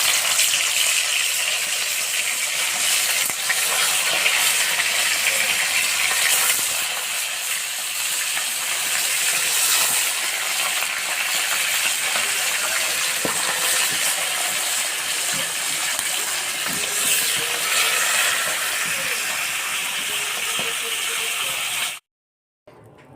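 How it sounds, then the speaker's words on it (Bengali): Pieces of silver carp frying in hot oil in a wok, a dense, steady sizzling hiss that stays loud and close for about twenty seconds before cutting off abruptly. "মাছগুলো এবার ভেজে নেব।"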